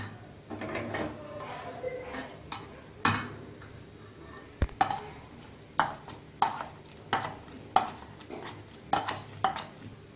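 Cooked rice and dal being mashed with a wooden masher in a pot for homemade food for a baby of eight months, giving repeated scraping knocks and sharp taps in a steady rhythm, close and fairly loud, with no talk.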